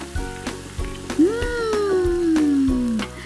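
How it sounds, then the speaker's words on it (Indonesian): Spice paste sizzles in hot oil while being sautéed as the filling for Indonesian kue cara is cooked, a steady close crackle with a few knocks from the pan and a sustained musical tone gliding over it. "Di atas minyak panas, tuang bumbu halus, kemudian tumis."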